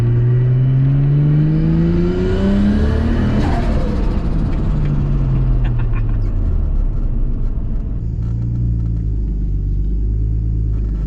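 A Nissan R33 Skyline engine revs hard and close, rising to a high-pitched climb around the middle and then dropping back to a deep, rumbling idle with smaller blips of throttle.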